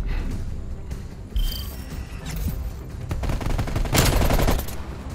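Rapid automatic gunfire from an MP5 in a Call of Duty: Black Ops Cold War 2v2 match, loud sustained bursts with a heavy flurry near the end, no talk over it.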